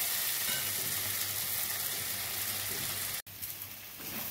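Kachur lati (taro stolons) fries steadily in a pan with a continuous close, loud sizzle; about three seconds in, the sound briefly cuts out, then the frying returns.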